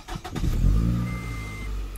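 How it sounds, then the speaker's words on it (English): A Scion tC2 engine cranks and starts, settling into a steady idle hum after a few brief clicks at the start, heard close up from the car's interior. "if I start the car up"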